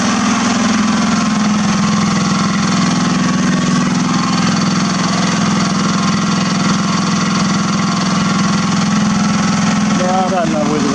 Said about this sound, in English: the engine is going quite nicely